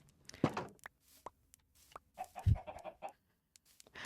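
Minecraft chickens: scattered hen clucks and short squawks against a soft background, with one louder low thump partway through.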